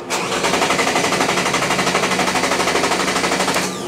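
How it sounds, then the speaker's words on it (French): A GM 1.4-litre stop-start engine on a training test bench cranks over and over in a fast, steady mechanical rhythm for several seconds without catching, loud and close, then stops. "Voilà, essayons de le redémarrer."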